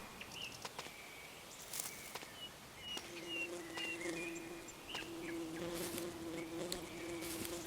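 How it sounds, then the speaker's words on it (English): Insects buzz steadily around a bee's nest in the survival game Ember's Verge, a low continuous drone with scattered higher chirps and clicks from the surroundings, no talking. "Now there's a bee's nest there."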